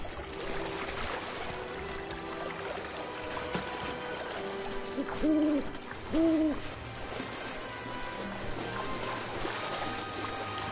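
Two soft owl hoots sound a second apart over steady ambient water and environmental noise in the game Final Fantasy 7 Rebirth, with no talking.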